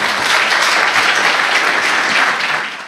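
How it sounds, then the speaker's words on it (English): A lecture audience claps steadily and fairly loudly, a dense wash of applause that fades slightly at the end. "Please join me in applauding Jeroen."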